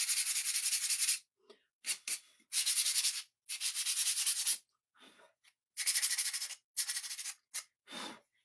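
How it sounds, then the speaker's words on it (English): Laser-cut wooden craft pieces are sanded along their edges by hand, giving loud, close scratchy rubbing strokes in bursts of about a second, separated by short pauses and a few lighter scrapes. "I sand mine just because sometimes on the edges where the laser cuts it"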